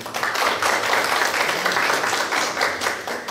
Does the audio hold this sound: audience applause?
yes